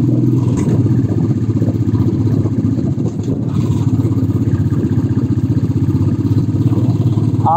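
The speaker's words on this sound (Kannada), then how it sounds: "ಎಕ್ಸಲೇಟರ್ ಕೊಡ್ತಾ ಇದ್ರೆ ಆ ಇಂಜಿನ್ ಸೌಂಡ್ ಬರ್ತಾ ಇರುತ್ತೆ" A vehicle engine labours steadily under acceleration while climbing a hill road toward Bababudan Giri near Chikkamagaluru, a loud, continuous, close drone with a rough clattering texture and no let-up.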